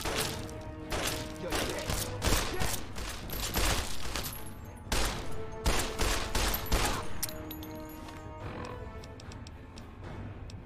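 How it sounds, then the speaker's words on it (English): Laser rifle and .32 rifle shots from Fallout: Tale of Two Wastelands, a loud burst of sharp repeated gunfire reports in quick succession, then a short pause and a second cluster of shots, with no talk over them. "Got two laser rifle shots. And this 32 rifle shot."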